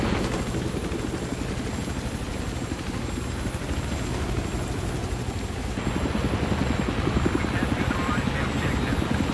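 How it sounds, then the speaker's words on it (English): Scout helicopter in the video game Battlefield 3 flying with a steady, loud rotor and engine drone throughout, the pitch and intensity shifting slightly partway through as the aircraft manoeuvres. "I haven't tried flying that one chopper with a controller yet."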